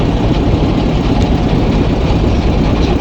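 A trawler boat's heavy engine drones steadily and loudly up close, a constant low rumble with no pauses.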